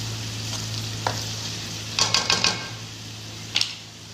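Masala for a ridge gourd curry frying in a pan while being stirred, a steady sizzle with sharp clustered clicks and scrapes of a spoon against the pan, close and moderately loud.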